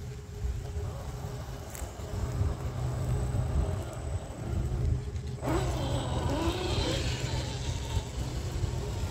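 Two RC crawler trucks, an FMS FCX10 and a Traxxas TRX4, creep along slowly side by side, giving a steady low motor whir with faint gear noise over outdoor ambience.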